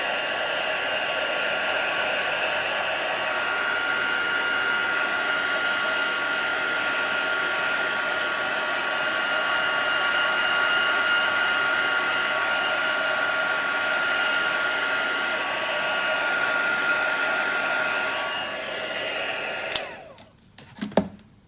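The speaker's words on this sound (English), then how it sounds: "Bringing the heat tool in, we're just going to heat that up as well." A heat tool blows steadily to emboss ink on a stamped card, a loud, constant whirring hum close by, holding for about twenty seconds before switching off with a couple of clicks.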